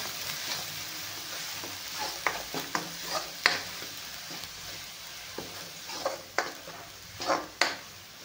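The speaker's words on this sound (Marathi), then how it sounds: "तरी पण लसूण अद्रक थोडंसं आपण छान भाजून घेणार आहे" Garlic and ginger roast in a pan for a masala, with a quiet steady sizzle broken by repeated scraping strokes of a spatula stirring against the pan.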